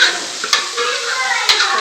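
Oil sizzles and crackles steadily in a tempering for urad dal with cumin seeds and curry leaves, a continuous close hiss with a couple of sharper pops and stirring scrapes.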